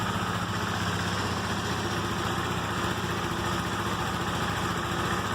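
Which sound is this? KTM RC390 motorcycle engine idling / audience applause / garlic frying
KTM RC390 motorcycle engine idling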